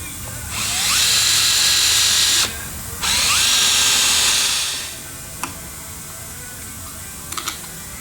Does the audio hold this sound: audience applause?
no